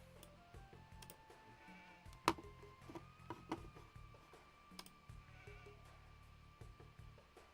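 Wild sheep in a video game bleat a few times, faint and somewhat distant, over a low steady background hum with scattered small ticks.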